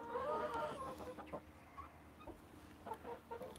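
A broody hen sitting on eggs clucks softly up close, a few low throaty clucks that trail off into quieter murmurs and rustling.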